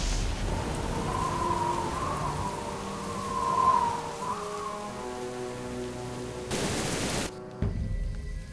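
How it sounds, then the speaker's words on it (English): Rain in the Jurassic Park: The Game video game, a steady hiss of rainfall with low tonal game sounds beneath, cut off abruptly near the end before a brief noisy burst. "At least the rain's easing up."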